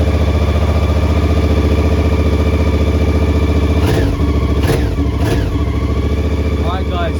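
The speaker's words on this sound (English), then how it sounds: "Let's turn this bike on actually." A motorcycle engine fitted with heated grips runs loud and steady at close range, with several sharp throttle blips partway through.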